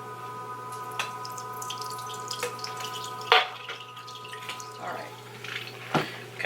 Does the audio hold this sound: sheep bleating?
no